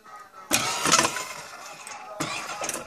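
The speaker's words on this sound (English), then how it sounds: "the trim wheel will be moved by the chain here, and this is also a DC motor." A small DC motor drives the trim wheel of an original Boeing 737 throttle quadrant through a chain, giving close mechanical whirring bursts, one lasting about half a second and another starting near the end.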